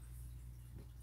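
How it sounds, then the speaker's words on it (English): A steady low hum with a soft, continuous watery hiss from a fish tank bubbling quietly in the background, with no talking. "If you hear that noise in the background, it's a fish's tank."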